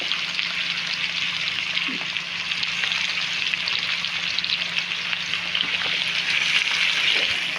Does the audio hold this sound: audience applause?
no